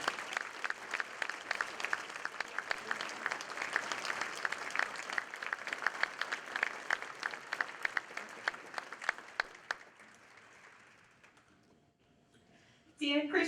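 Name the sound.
audience applause congratulating new Paul Harris Fellow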